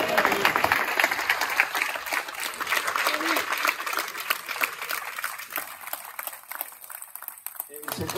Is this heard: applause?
yes